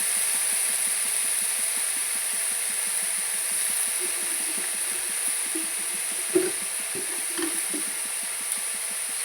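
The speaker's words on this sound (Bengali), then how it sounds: "এই পালং শাকটাকে ভালো করে রান্না করছি, নেড়ে নিচ্ছি।" Spinach cooking in a pan, with a steady, even hiss throughout and a thin high whine on top. Faint scrapes and light taps of stirring come through near the end.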